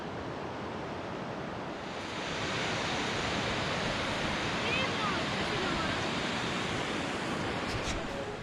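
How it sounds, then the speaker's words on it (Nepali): A waterfall beside a suspension bridge on a mountain trek in Nepal roars as a steady broadband rush, growing slightly louder after the first couple of seconds and holding constant, heard alone without voices. "पुलकै साइडमा एउटा साह्रै नै राम्रो झरनाको अवलोकन"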